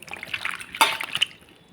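Ash gourd being rinsed under water, with short splashing and trickling bursts close by, one stronger splash in the middle of the brief moment.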